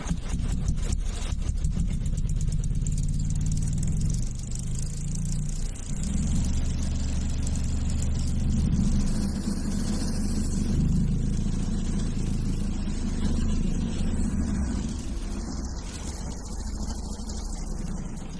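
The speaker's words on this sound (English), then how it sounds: "now we're going to cut in here with the sawmill" A sawmill engine drones steadily while cutting timber for a solar mount frame, a loud continuous mid-pitched motor hum that shifts slightly in load partway through, heard alone without talk.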